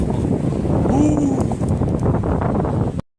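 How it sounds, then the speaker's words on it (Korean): A strong, warm wind blows high on a mountain, buffeting the microphone with a continuous rough roar. A voice is faintly present under it, and the sound ends abruptly. "바람이 신나게 분데요 안 추워요 따뜻한 바람이에요"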